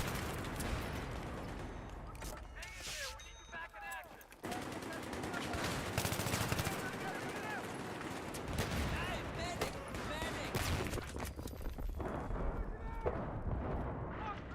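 AEK assault rifle fire in Battlefield 3 on PS3, dense bursts of automatic gunfire with explosions and battle noise throughout, a voice talking over the loud game action.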